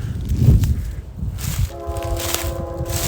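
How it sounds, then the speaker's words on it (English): A train horn sounds from some distance in a wooded area, its steady tonal blasts entering partway through over low rumbling and brief footsteps or handling noise. "we got a train on the way here coming"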